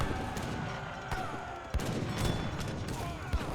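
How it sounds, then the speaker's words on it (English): Falconet cannons fire a volley in an Age of Empires 3 battle, a dense crackling fusillade of overlapping shots over steady battle noise, with sharp louder bursts near the middle and end. "Excellent volley there from the falconets."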